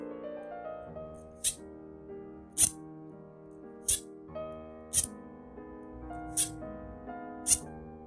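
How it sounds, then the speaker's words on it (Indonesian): A stainless steel drinking straw and its cleaning brush are played together as a makeshift instrument, giving six sharp metallic plinks at a steady rhythm over sustained ringing musical tones. "ini adalah sedotan stainless steel dan juga pembersihnya, tapi jika digabungkan dia akan menghasilkan suara yang terdengar unik"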